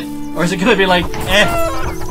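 Chicken clucking in a video game, short fowl calls mixed with a player's talk over game audio.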